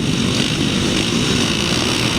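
Grasstrack racing motorcycles at a meeting in Ledbury rev together before the start, a loud, continuous, dense engine roar with no break, heard close and filling the whole moment.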